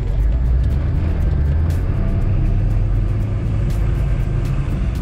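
A large off-road SUV being driven, heard from inside the cabin as a steady low engine and road rumble, continuous and fairly loud, with no one speaking.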